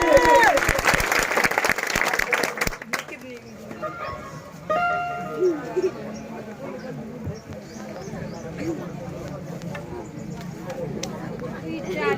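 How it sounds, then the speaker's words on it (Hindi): A crowd at a Bhim Army political rally in Jakhaura breaks into loud, dense applause for about three seconds, then the clapping stops and voices and crowd murmur continue. "सभी जोरदार तालियां बजाएं उनके लिए।"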